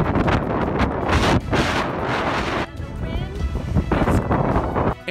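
Wind and rain whip through a valley during wet, blustery weather, a loud continuous roar of gusts buffeting the microphone, with brief lulls and surges throughout.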